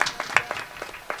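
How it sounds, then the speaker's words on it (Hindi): Scattered hand claps from an audience at a village religious recitation event, a handful of separate claps spaced irregularly, fairly sparse and moderately close, fading into quiet between strikes. "एक बार ऊपर ताली बजाओ"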